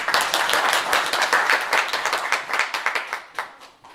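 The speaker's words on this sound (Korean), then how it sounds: "큰 박수로 맞아주시기 바랍니다" Applause from an audience at a Siheung city briefing as the mayor goes up to the podium: dense, steady clapping from many hands throughout, fairly close and loud, thinning slightly toward the end.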